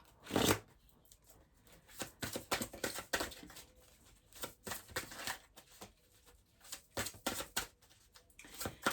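Tarot cards being shuffled by hand, a quiet series of riffling bursts and soft slaps repeating in irregular rhythm, close to the microphone with no talking.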